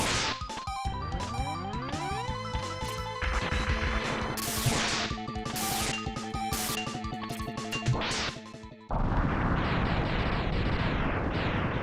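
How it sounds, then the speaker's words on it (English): Repeated 16-bit explosions in the Mega Man X: Project Zero SNES game, loud crashing bursts over busy game sounds, cut off abruptly near the end before a hissing noisy stretch. "Cool guys don't look at explosions."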